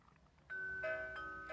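A Hornby Hogwarts Express model train plays a bell-like electronic tune, with sustained ringing tones that start abruptly and carry on as a soft, steady melody, close and alone.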